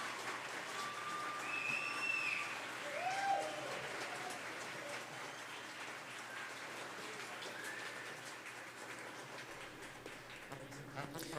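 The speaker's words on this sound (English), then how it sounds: "let's have a round of applause to them." A large audience at a game jam grand final claps in a sustained, even wash of applause that slowly tapers, heard from a distance with no voices over it.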